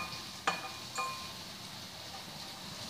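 Shallots sauté in a pan for quail roast, a steady faint sizzle with two soft clinks of a spatula against the pan near the start.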